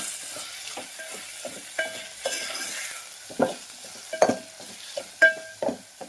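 Chutney being stirred into spinach dal in a pan, a series of scraping spoon strokes with soft sizzling underneath, no talk.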